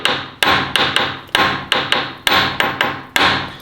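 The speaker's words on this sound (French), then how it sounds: "On ne frappe jamais fort sur un embout, toujours sur l'écrou. Et là, on choque ça pour le décoller." A hammer strikes a nut to free a suspension joint on a Renault Mégane RS, ringing out in about ten loud, sharp metallic blows at a steady rhythm with short ringing decays and no talk.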